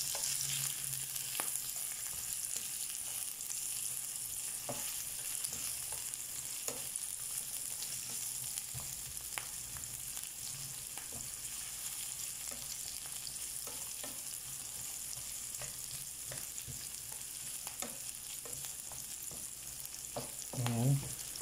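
Onions stir-fry in a pan for ginisang ampalaya with a continuous soft sizzle and scattered clicks of a spatula stirring, fairly faint and without talk.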